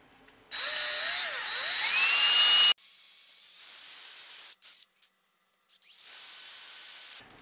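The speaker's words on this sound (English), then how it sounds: "So I'm going to go ahead and drill holes all the way through." A small drill with a 1/8-inch bit bores holes through the wooden hull of a Black Pearl model ship, giving a loud high whine that shifts in pitch for about two seconds, followed by quieter, intermittent buzzing bursts.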